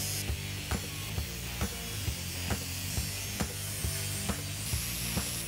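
Sheet steel being cut for a rust patch on an Alfasud bulkhead gives a rasping, scraping sound broken by regular sharp strokes, roughly two per second, close and fairly quiet.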